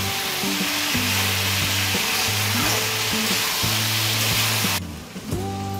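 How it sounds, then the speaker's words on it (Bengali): Mixed vegetables sauté in oil without water for a five-vegetable mix sabzi, giving a loud, continuous close-up sizzle with stirring and a tonal backing under it; the sound thins out briefly near the end. "এই সবজিগুলো আমি খুব ভালোভাবে কষিয়ে নেব।"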